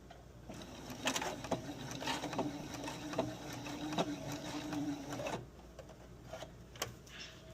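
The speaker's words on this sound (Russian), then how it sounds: "поэтому я подвину вправо на 2 миллиметра иглу и проложу строчку" A sewing machine runs a line of stitching along a seam in jacquard fabric, a fast even whirring clatter, close and quiet, that runs for about five seconds before stopping, followed by a few faint clicks.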